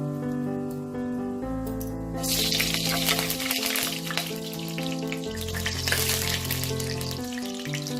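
Two medium-sized onions, finely chopped, tipped into hot oil for chicken do pyaza, setting off a loud burst of sizzling frying that continues with stirring, faint background hum underneath.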